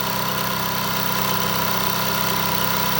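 A homemade fly cutter on a milling machine takes a light final cleanup pass on metal, giving a steady, dense whirring drone with a constant mechanical hum throughout and no talking.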